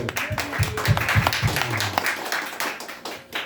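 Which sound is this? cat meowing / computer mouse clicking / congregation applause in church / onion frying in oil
congregation applause in church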